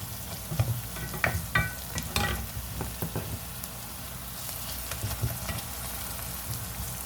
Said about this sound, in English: Just keep stirring it like that.